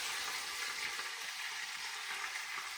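Onions sizzling in a large pot on a stovetop over medium heat, a steady, close, dense frying hiss with no talking.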